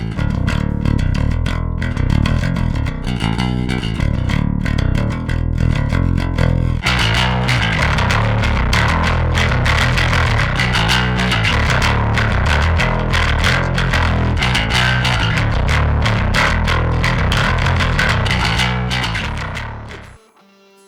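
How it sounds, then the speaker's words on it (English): Bass guitar played through a Karma MTN-Bass distortion drive pedal, a loud, continuous overdriven riff with thick gritty low end and scooped high-gain tone, busier chugging notes after a short change, fading out at the end with no talking. "get you sounds everywhere from the more old school kind of tubby distortion sounds all the way up to like scooped high gain stuff"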